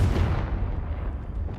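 A Confringo blasting spell goes off in a Hogwarts video game as a heavy booming explosion, loud and rumbling at first and then fading into a low lingering roar.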